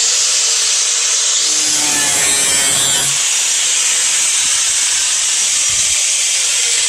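A cutting tool slices an opening in the floor panel for a Jeep four-wheel drive shifter after a transfer case drop, a loud, harsh continuous hiss and grind up close that holds steady throughout.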